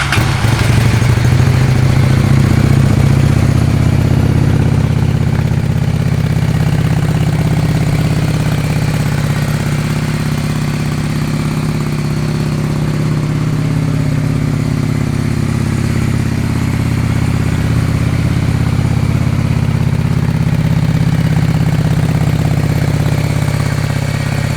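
A 2003 Honda Shadow VLX 600 cruiser motorcycle starts with a brief crank, then settles into a steady, loud, low rumbling idle with an even V-twin throb that holds for about twenty seconds.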